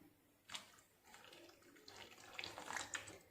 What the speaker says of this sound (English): so I am adding normal water